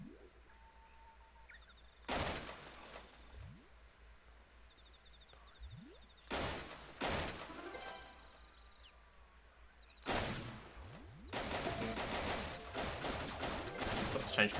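Shots fired at targets in the Wii Play shooting range game: three sharp bursts of gunfire-like effects a few seconds apart, each trailing into a short cluster of hits over a steady low hum.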